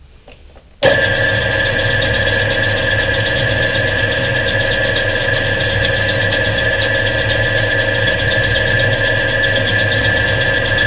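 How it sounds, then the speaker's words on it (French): A metal lathe starts up and runs at its slowest speed for reaming an oiled hole, a loud steady motor drone with a sustained whining tone that holds evenly after a sudden start. "On va pouvoir passer à l'alésage, donc avec l'alésoir."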